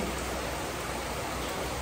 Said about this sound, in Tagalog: Umuulan pa kasi.